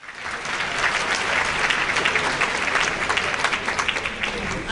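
An audience at a peace summit on women and peace building claps steadily in a dense, sustained burst of applause that fills the room at close range.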